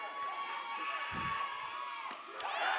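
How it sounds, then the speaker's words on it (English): Crowd noise rises at a 2021 4A softball state championship between Morrilton and Pea Ridge, a steady wash of cheering and children's shouts with a few whoops near the end, carried over the field from a moderate distance. "Morrilton has a huge crowd."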